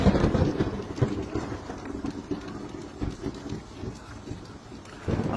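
Heavy rain pours in a continuous hiss during a thunderstorm, with deep rumbling thunder rolling beneath and a few sharper bursts near the start and end.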